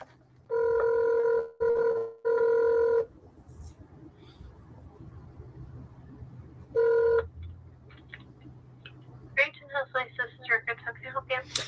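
A telephone keypad sounds three long dual-tone beeps, then another after a pause, followed by a quick run of shorter dial tones as a call to a police department is placed, over a faint steady hum.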